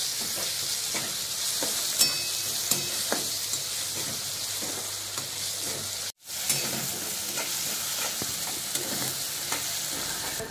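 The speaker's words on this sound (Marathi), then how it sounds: "आता ह्यामध्ये टोमॅटो टाकून परतून घेऊया। टोमॅटो छान मऊ होईपर्यंत शिजून घ्यायचं आहे।" Tomatoes sauté in a pan with cauliflower, giving a continuous close frying sizzle with occasional stirring scrapes. A brief gap of silence cuts in midway, then the sizzle resumes steadily.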